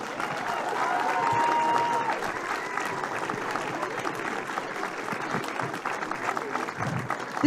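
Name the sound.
round of applause for camogie teams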